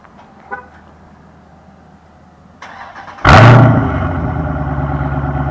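2020 Dodge Challenger Scat Pack with mid-muffler delete and Dynomax Race Bullets fires up on a warm start: quiet lead-in, a crank, then a loud sudden exhaust burst settling into a steady rumbling idle.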